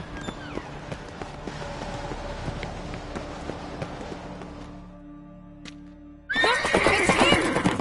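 A horse in The Witcher 3 video game gives a drawn-out whinny over galloping hooves and game sound, then a burst of loud, noisy action breaks in near the end.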